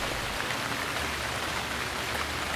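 Rain falls steadily in a continuous, even hiss around a house with windows and a veranda, moderately faint and unbroken for the whole stretch, with no voices.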